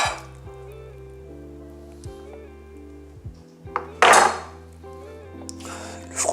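A knife cuts through a hot-dog-style burger with cheese on a plate over background music. A few light clinks of cutlery lead to a louder scraping crunch midway, followed by softer clatters.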